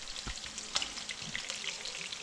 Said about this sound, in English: So they're sizzling already.